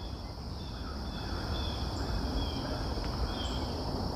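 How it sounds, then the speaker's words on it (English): Crickets chirring in a steady, unbroken drone outdoors on a morning hike, a constant high-pitched texture held at moderate level over faint low rumble, with no talking. "Just a constant drone of crickets."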